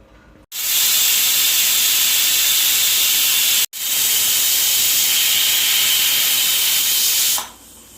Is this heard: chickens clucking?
no